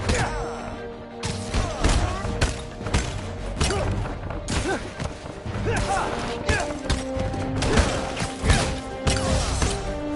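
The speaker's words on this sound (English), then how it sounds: "Watch out for gunfire." Rapid bursts of gunfire and crashing impacts fill a busy soundscape in the video game Marvel's Spider-Man: Miles Morales, with a voice speaking over the steady action.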